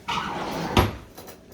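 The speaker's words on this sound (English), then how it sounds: "if you open that drawer right there" A kitchen drawer slides open with a soft rumble, then a single firm knock as it stops, moderately close in a quiet room with no talking.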